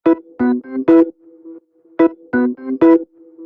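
Punchy synth organ and Rhodes chord stabs in a syncopated pattern, with a thin sustained tone humming between the hits.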